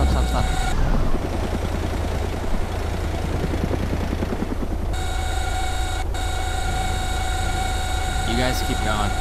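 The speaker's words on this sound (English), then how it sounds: "We gotta hurry. There's a helicopter." A helicopter in a video game whirs as a low, steady engine drone, with a loud burst early on and rotor-like hum continuing under players talking throughout.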